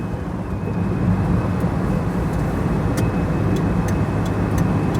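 Steady in-cabin road and engine drone from a cheap £200 car with 47,000 miles accelerating onto a motorway, a constant low rumble with faint ticking, no talk.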